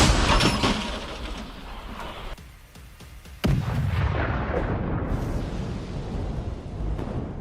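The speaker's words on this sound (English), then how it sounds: "Counter-battery fire began within seconds." Artillery fire in combat on a Ukrainian front line: sharp booming blasts with rumbling, echoing tails, one heavy nearby detonation midway followed by continuous rolling roar.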